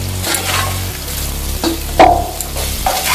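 Potatoes fry in hot mustard oil with a steady, close sizzle, broken by a few scraping stirs of the spatula in the pan.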